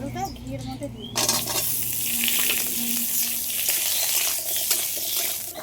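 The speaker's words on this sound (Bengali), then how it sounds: "এই আলুটা ঘিয়ের মধ্যে দিয়ে দেবো" Diced potato dropped into hot ghee in a wok bursts into a loud, dense sizzle after a brief quiet moment, then keeps crackling steadily up close.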